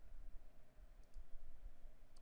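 A computer mouse clicks a few times, faint and sparse, as shapes and colours are selected in Illustrator over a quiet room hum.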